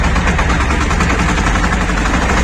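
A loud, steady Shifeng 244 tractor engine drones close by in gear while ploughing, with a coarse, rattling low throb, holding an even rhythm without pauses.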